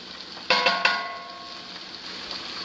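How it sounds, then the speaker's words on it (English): Bacon frying in a cast iron pan with rosemary and seasonings nearby, a steady close sizzle with a few sharp clanks of the pan or utensil near the start. "And we got my bacon going"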